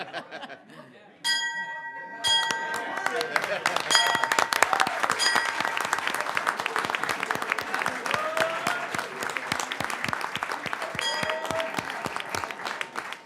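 A bell rings out with clear metallic tones, then steady applause and cheering from a gathered crowd carry on, with the bell's ringing heard over them.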